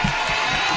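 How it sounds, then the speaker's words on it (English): A basketball crowd at a men's college semi-final game roars in a loud, dense wall of cheering and clapping, with a voice audible under it. "Queensborough faithful getting up and applauding their hero"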